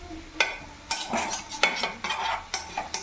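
A spoon stirs vegetable curry in a pan, with several sharp scraping clatters spaced irregularly over a few seconds, close and fairly loud, and no voices.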